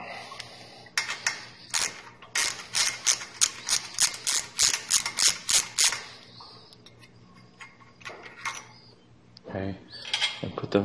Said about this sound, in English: I'll go ahead and take these pins out.